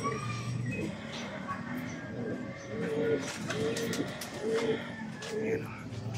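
Racing pigeons coo in a loft, several low rolling coos repeating in a steady rhythm at moderate distance, with faint chirps and background murmur of talk underneath.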